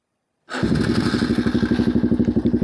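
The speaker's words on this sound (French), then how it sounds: "Donc on va démarrer le quad." A quad bike engine starting, in gear without the clutch, catching abruptly after a brief silence and settling into a loud, close, rhythmic idle of even thumping pulses.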